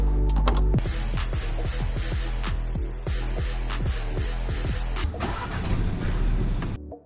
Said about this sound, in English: this trunk space is also automatically operated because it's got a manual and automatic option